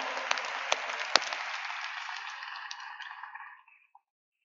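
A congregation at a religious sermon applauds God steadily for a few seconds, dense clapping that gradually thins and fades out, ending with a last stray clap.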